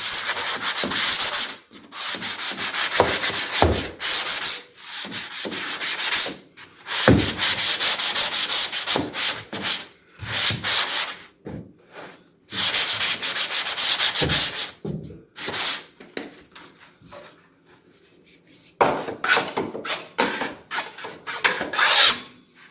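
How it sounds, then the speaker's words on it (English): Hand sanding of drywall joint compound on an inside three-way corner, with loud rhythmic scratchy strokes in bursts separated by short pauses, close to the microphone, no talking. "this is our traditional 3-way that we're going to sand out now"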